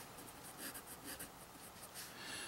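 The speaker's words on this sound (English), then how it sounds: "let's take a look at how this pen writes" A Sheaffer Imperial IV Touchdown-filler fountain pen with a medium 14k nib writing on paper, faint soft scratchy strokes in short repeated bursts, close and quiet.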